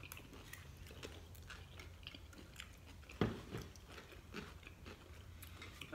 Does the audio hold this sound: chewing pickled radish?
yes